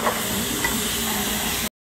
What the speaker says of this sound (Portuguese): Agora eu vou jogar o camarão aqui, ó, para nós refogar ele aqui